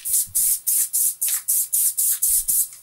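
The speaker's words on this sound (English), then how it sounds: "Just give it a light spray." A spray bottle gives about nine quick, even hissing bursts onto a glass plate, close and loud in a steady rhythm, as the plate is wetted before lapping film is applied for lapping the heads of a Tascam 122mkII tape deck.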